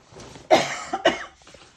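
A man coughs twice in quick succession while showing a men's XL insulated jacket, fairly close and clear, followed by a faint trailing breath.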